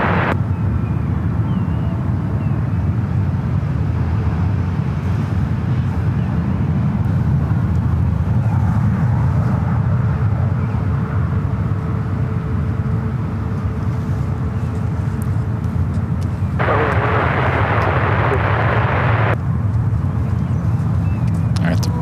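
The engines of an Air France Boeing 777-300ER at SFO roar steadily in a broad rumble that swells partway through. A voice talks over the noise.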